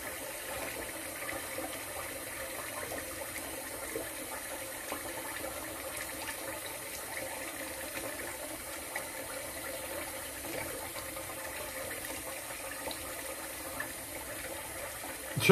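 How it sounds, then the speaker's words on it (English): Hot water runs steadily from a bathroom tap while a straight razor shave is prepared, a soft, continuous faint splash and hiss heard alone with no voices. "I'm going to run up some hot water here"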